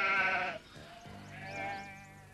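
Sheep bleat in a cartoon, one loud, wavering bleat followed by a softer, lower second bleat, close by with no talk.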